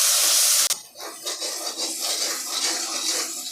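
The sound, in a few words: stirring onion paste in an iron pan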